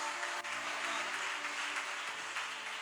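A church congregation claps steadily to welcome a preacher, a dense, even roar of many hands that is close and sustained, with no voices above it.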